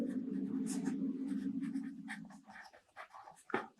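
Pen writing in a book during an English lesson, a continuous scratchy scrawl across most of the stretch with short stroke bursts near the end, close and fairly quiet.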